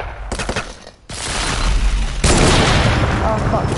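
Loud, dense bursts of gunfire in the video game Fortnite crackle close by, a short volley, a brief lull, then sustained heavy firing.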